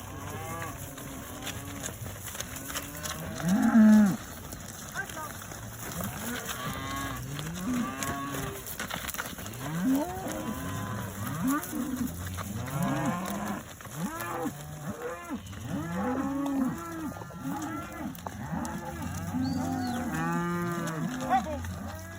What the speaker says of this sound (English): cows right here. They all just got out.